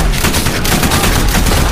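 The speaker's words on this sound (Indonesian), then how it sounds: "tembakan sniper-sniper Jepang." Dense gunfire from Japanese snipers in the war film The Eight Hundred, a loud, continuous crackle of shots that fills the full stretch with no pauses.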